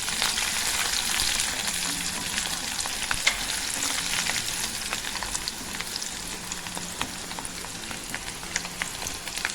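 Dried red chillies and sliced garlic fry in hot oil for a Telugu dal curry, giving a steady, dense sizzle with scattered small pops throughout, fairly close and continuous with no voices.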